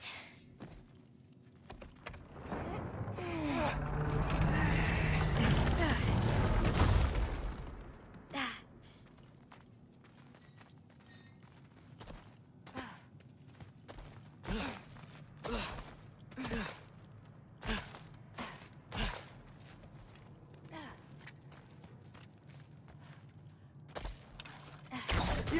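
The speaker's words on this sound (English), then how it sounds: "I think I can hear something breathing near the back of the cell." Something breathes in a prison cell in God of War Ragnarok, with one long heavy breathy rush near the start, followed by quieter scattered clicks and faint breaths in a hushed space.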